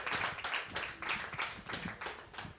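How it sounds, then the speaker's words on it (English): Brisk applause from a group of people, steady clapping throughout at moderate distance, with no voices. "Another round of applause for that, please."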